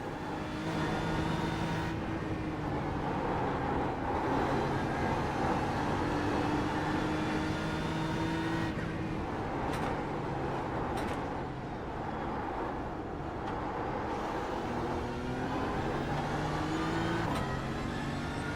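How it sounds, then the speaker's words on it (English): Continuous race car engine roar at the Nürburgring 24-hour race, with shifting tonal hum as traction control kicks in on lost traction, revving, close and loud throughout, with brief dips as the pitch changes. "So that hum you heard, we were losing traction, and so the TC kicked in."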